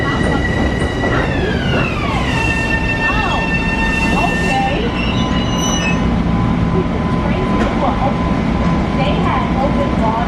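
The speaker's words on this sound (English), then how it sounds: "I'm pretty much just watching the trains go by." Trains roll through a New York station with loud, steady rumbling and clattering wheels and screeching metallic tones that glide downward, while people talk in the background.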